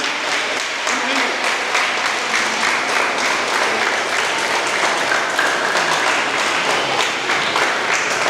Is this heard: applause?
yes